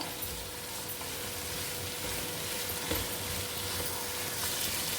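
Chicken fried rice sizzling in a pan while being stirred now and then: a steady, faint, broadband frying hiss with a few soft scrapes, close by and with no voices.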